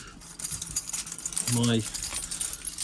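Keys jangle briefly near a farm vehicle cab before muck spreading, a short metallic rattle under background noise and a voice.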